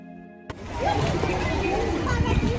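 Water splashes and sloshes in a pool aboard a Disney cruise ship, starting abruptly and continuing as a busy wash of splashing, with children's voices and other chatter mixed in.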